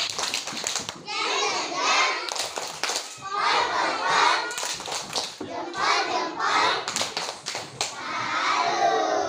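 Schoolchildren in an Indonesian classroom perform the rhythmic 'tepuk salut' clapping chant for a classmate who read well, sharp hand claps punctuating their loud chanted voices.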